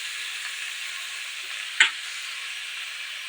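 Tomato with turmeric frying in a pan gives an even, close hiss of sizzling, broken once by a short, sharp clink of a utensil, with no talk.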